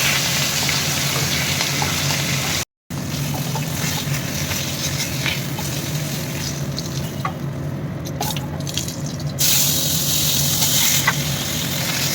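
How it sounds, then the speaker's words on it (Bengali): Pomfret fish fry in oil with a steady, close sizzle and scattered small pops and spits, interrupted once by a short silent gap. "তো চলো সবকটা মাছ ভেজে নিই।"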